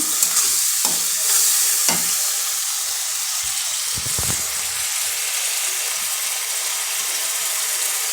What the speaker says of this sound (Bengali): টমেটো পিউরি, এই যে টমেটো বাটা, দিয়ে ভালো করে কষাচ্ছি।